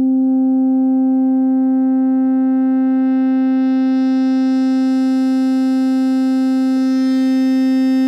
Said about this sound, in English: There's our sine wave, and now we'll bring the filter back up in frequency.